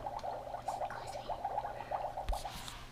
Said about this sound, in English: I hear bubbling.